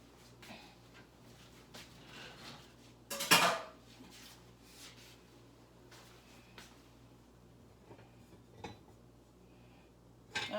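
Dishes clattering into a kitchen sink, one loud ceramic clank followed by scattered softer knocks and utensil clinks in a quiet room.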